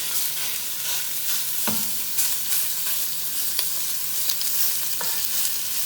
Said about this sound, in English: You put the heat real high all the way up because you want to sear that meat